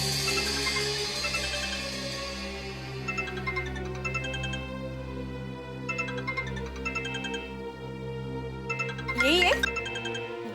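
A mobile phone rings with a repeating electronic melodic tone in short bursts, sounding under ongoing conversation between people, with a brief rising swoop near the end.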